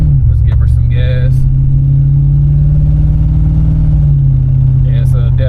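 An LS-swapped 1994 Chevrolet Caprice Classic with a custom exhaust gets throttle, its engine holding a loud, deep, steady drone that rises slightly then eases back, with a few brief clicks and knocks on top.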